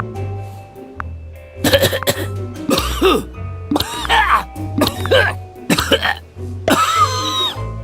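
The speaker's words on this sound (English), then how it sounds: "He has to cough." A person coughs repeatedly after inhaling a mouthful of water while brushing teeth, a series of harsh, close coughs and throat clearing in uneven bursts with brief pauses between.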